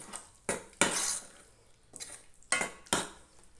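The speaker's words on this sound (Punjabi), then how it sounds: "ਹੁਣ ਆਪਾਂ ਪਾਵਾਂਗੇ ਇਹਦੇ ਵਿੱਚ ਸਿਰਕੇ ਦੀ ਇੱਕ ਕੜਛੀ" A ladle of vinegar goes into a homemade green sauce in a village kitchen, heard as several sharp metallic clinks and scrapes of the ladle against the pot or jar, spaced out and fairly close, with no talking.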